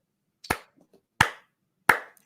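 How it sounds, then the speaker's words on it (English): A handful of sharp, isolated hand claps ring out in a baseball talk-show studio, three distinct slaps spaced evenly apart with near silence between them, close and fairly loud. "round of applause"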